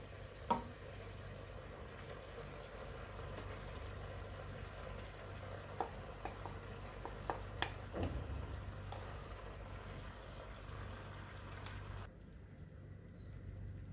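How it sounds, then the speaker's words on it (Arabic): Onion and oil added to meat in a pan for a Moroccan prune dish, giving a faint, steady low sizzle with a few soft clinks and stirring scrapes scattered through, quiet and without talk. "دابا غادي نزيدو البصله والزيت"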